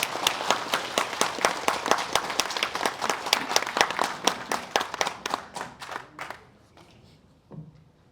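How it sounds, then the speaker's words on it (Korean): Audience applause at a memorial ceremony in a hall: a crowd claps in brisk, fairly close bursts that thin out and fade after about six seconds, then a faint stray sound. "박수로 맞이해주십시오"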